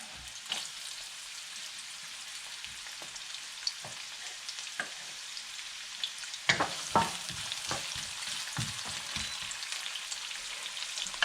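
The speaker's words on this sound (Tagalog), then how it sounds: "So, maglalagay tayo ng konting mantika. And then, lagay na natin yung ating sibuyas. Tsaka yung ating bawang." Onions and garlic sautéing in a little oil, a soft steady sizzle with scattered clinks and scrapes of stirring, fairly quiet and alone.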